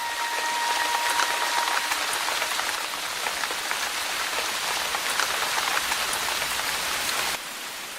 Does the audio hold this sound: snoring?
no